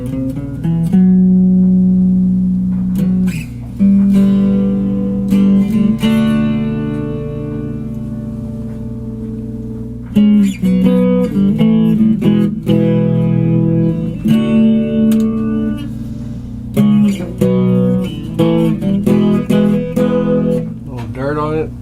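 A fake Gibson electric guitar is played clean through an amp, with chords and single notes ringing out in phrases, some short pauses between them, and close, fairly loud sound.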